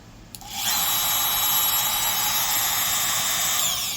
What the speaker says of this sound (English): It sounds more like a servo motor.